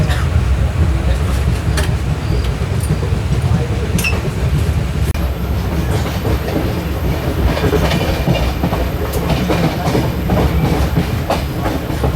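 The Hampi Express rumbles steadily along the rails with rhythmic clickety-clack of wheels, loud and close, with faint voices now and then.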